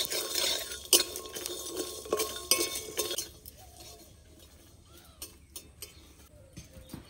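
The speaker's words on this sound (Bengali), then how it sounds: "এখন ভালো করে নেড়ে চেড়ে মশলাটাকে আমি ভেজে নেব।" A spoon stirs whole garam masala, cashews and almonds frying in a pan, giving quick clinks and scraping against the metal, busier at first and then sparser and fainter with a faint sizzle.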